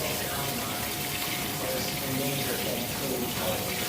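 Water being poured into a pan of rice and chicken for Spanish chicken and rice, a steady continuous rushing pour with no breaks, moderately close and at even volume throughout.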